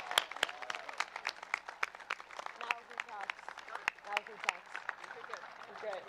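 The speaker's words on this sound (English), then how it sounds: "one last round of applause for these Broncos behind me" A crowd at a Santa Clara women's soccer national championship celebration claps and cheers in sustained, fairly distant applause, with sharp individual claps standing out.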